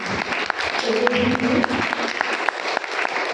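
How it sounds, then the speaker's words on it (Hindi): An audience claps for a guest during a spiritual talk. The applause is moderately loud with distinct individual claps, and faint voices and tonal sounds mix underneath. "सबसे पहले कीर्ति भाई जी के लिए बहुत जोर से ताली बजाओ।"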